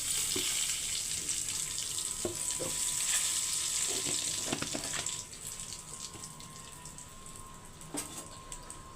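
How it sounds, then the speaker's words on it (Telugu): Cumin, turmeric, mustard seeds and curry leaves sizzle in very hot oil, a steady crackling hiss with occasional pops that fades to a quieter sizzle partway through. It is heard close and without talk. "నూనె బాగా వేడెక్కిపోయింది జీలకర్ర పసుపు ఆవాలు కరివేపాకు"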